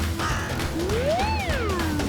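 A huge bird of prey attacks in a cartoon fairytale, heard as a single loud rising and falling screech or caw that swoops up and then down over steady background sound.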